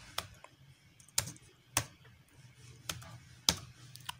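A password being typed on a keyboard, a handful of sparse, separate key clicks spaced irregularly over a few seconds, close but fairly quiet against a faint background hum.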